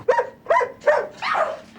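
Several dogs in a suburban household bark loudly in four rapid bursts, each sharp yelp close and harsh, the last bark drawn out longer than the others.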